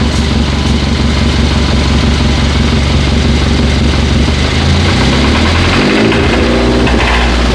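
Hyundai Sonata engine idling steadily and then revving up briefly near the end, a loud close engine hum with a rising pitch sweep.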